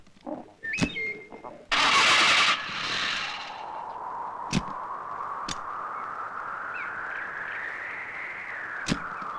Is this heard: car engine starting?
yes